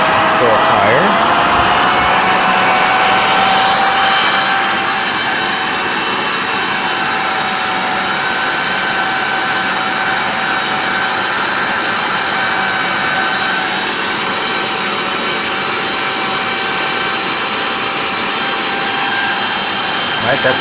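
A Miele Callisto S5281 canister vacuum cleaner runs steadily during an airflow test, a loud, close, continuous motor roar with a slight drop in pitch early on, holding constant for about twenty seconds.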